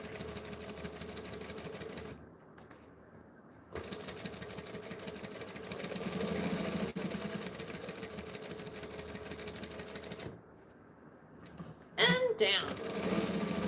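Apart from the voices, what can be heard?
sewing machine stitching thick towel fabric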